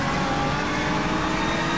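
Renault Megane Trophy race car lapping Portugal International circuit in the rFactor2 racing sim, a steady loud engine roar held at high revs throughout, with no talk.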